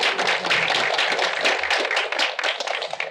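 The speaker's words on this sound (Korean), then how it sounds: "다시 한번 박수 부탁드리겠습니다" A film festival audience claps for a grand-prize-winning film at a post-screening talk, the dense, even applause of many hands running loud and steady throughout.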